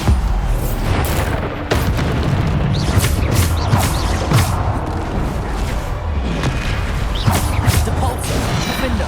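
Repeated booming Bombarda blasts from a spell in Hogwarts Legacy, loud and dense, one burst after another over a steady roar of battle effects.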